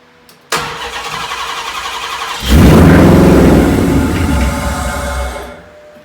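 A car engine on a Jensen Hemiceptor build cranks and catches, then settles into a steady running note. It swells into a louder, deeper rev before easing back, heard close with no talking.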